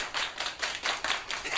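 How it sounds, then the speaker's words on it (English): Several people clap their hands together in a quick, regular rhythm: about eight sharp bursts of applause-like claps, moderately loud and close, with no talking. "Everybody clap your hands!"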